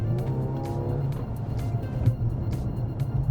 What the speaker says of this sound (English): When you plant your foot down, you can still hear a little bit of the 4-cylinder sound.